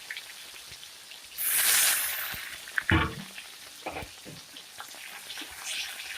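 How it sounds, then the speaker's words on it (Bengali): Chopped onion frying in oil, a steady close sizzle with a loud hissing surge and sharp stirring clatter against the pan, then settling back to a lower crackle. "পেঁয়াজটাকে অল্প লাল করে ভেজে নিতে হবে"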